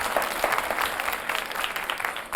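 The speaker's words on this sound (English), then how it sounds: "Let's have a round of applause for them." Audience applauding students at a televised spelling bee, a dense, steady burst of clapping from a sizeable crowd, fairly close and loud throughout.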